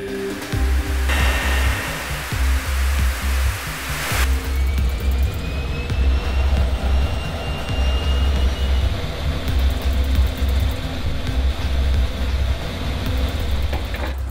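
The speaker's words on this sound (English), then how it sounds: "the only places where the engines can run at full throttle, unlimited" F-22 jet engine roaring at full throttle with afterburner inside an enclosed engine test facility, a loud steady broadband roar that surges sharply after a few seconds and holds powerfully to the end.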